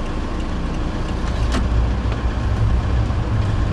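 A car pulls away from the Chak On Road driving test centre on a test route, its engine a steady low rumble with road and traffic noise throughout, fairly close and continuous, with no talk.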